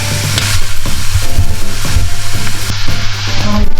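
Soya chunks and capsicum sizzle in a hot pan, stirred with quick rhythmic scrapes over continuous loud frying, with no voices.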